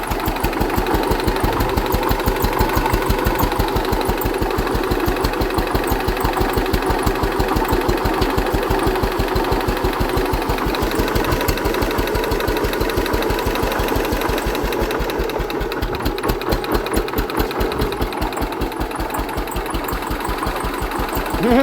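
A Hatz diesel engine converted to run on wood gas idles steadily, a rapid even popping chug that runs close and loud without pause.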